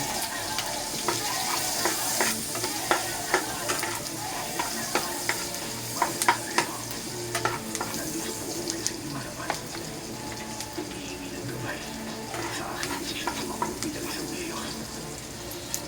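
Garlic sautés in a pan for a Filipino pork and tomato dish, with a soft steady sizzle broken by sharp spatula scrapes and clicks against the pan, close and without speech.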